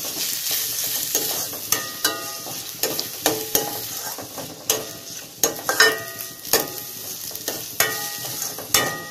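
Large onions sautéing in a pan for an Indian-style vegetarian macaroni, with a steady sizzle and repeated sharp clinks and scrapes of a spoon stirring, no talking.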